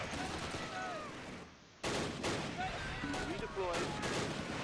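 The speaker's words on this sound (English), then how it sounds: "The MG42 just opened up and killed half the squad" An MG42 machine gun fires in the wartime strategy game Close Combat, rapid bursts of gunfire with distant shots, interrupted by a short lull, while a voice talks over the battle.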